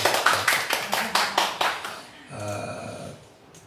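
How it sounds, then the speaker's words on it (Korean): A church congregation claps in a steady, fairly quick rhythm for about two seconds, then stops. A sustained tonal sound follows, and there are no clear voices. "우리 박수 한번 해주십시오."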